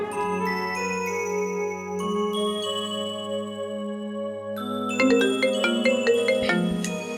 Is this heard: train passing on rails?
no